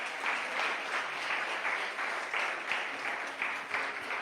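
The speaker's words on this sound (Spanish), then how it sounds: "Dale una ofrenda de palmas al Señor." A church congregation claps to the Lord in steady, dense applause that fills the room at an even level, with faint voices underneath.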